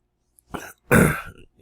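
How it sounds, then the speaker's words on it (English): Two short bursts of a person clearing their throat, a brief rasp followed by a louder, longer harsh clearing, close and otherwise quiet. "may have to clear my throat once in a while as well"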